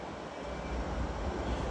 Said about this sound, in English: Arriving in now is the terminating Northern Trains fishbowl.